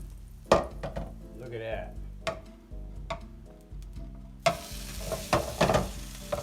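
Hash browns fry in olive oil in a skillet with soft sizzling, punctuated by sharp utensil scrapes and taps from flipping, and the frying gets louder after the turn; a voice speaks briefly.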